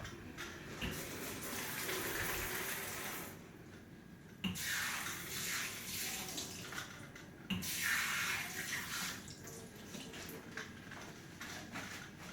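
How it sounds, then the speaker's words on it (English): Hands being washed under a running tap during a clinical assessment, a steady rush of water with splashing and brief pauses, fairly close and alone with no talk. "I'm going to wash my hands again before we do that."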